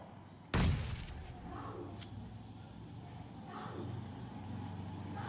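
A grenade goes off in a shooter video game: one sudden, loud blast that fades into a low, lingering rumble, with quieter game ambience continuing afterward.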